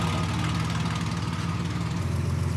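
A restored car engine idles steadily after its rebuild, a loud, close, even low rumble with a smooth, regular purr and no talking over it.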